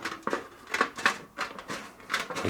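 Scissors snipping little metal shims for a steam engine's main bearings, a run of crisp, close cuts in an uneven rhythm, with no talk over them.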